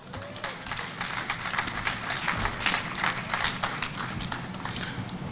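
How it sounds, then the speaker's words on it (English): A rally crowd outdoors in Washington, D.C. claps and cheers for a speaker, sustained moderately loud applause with crowd noise, heard at some distance. "Give him a round of applause."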